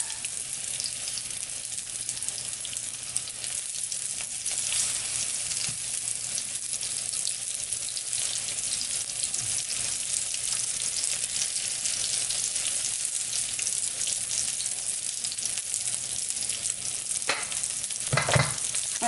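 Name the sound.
ebleskiver batter frying in seasoned Norpro cast iron pan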